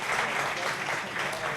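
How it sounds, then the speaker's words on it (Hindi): A church congregation applauds in a short, dense wash of clapping, steady and fairly loud for under two seconds. "जोरदार तालियां भाई के लिए बजाइए।"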